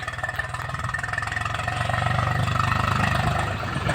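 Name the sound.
tractor engine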